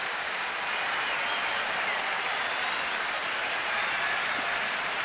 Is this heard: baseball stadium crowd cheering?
yes